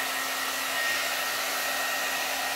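A SUTRA blowout brush blowing hot air like a blow dryer, a loud, steady whirring hiss with a faint constant whine that runs unbroken throughout.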